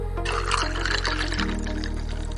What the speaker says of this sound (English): Pour into the cup.